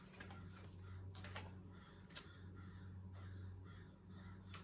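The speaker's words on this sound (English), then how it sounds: "we have a family of 5 crows that come by" Several crows caw in short harsh bursts, some close and sharp, others fainter, over a low steady hum.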